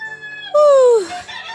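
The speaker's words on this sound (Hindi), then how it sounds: "वो मुर्गा बोल रहा है, अलार्म नहीं" A rooster crows once, loud and close, its call rising then trailing off over a quiet background.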